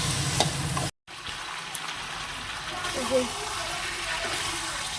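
Meat being slowly sautéed in oil with spices, a steady close sizzle and stirring broken by a brief silent gap, with a voice talking over it.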